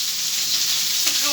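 Snakehead fish frying in hot oil, a steady close hiss and sizzle with faint crackles.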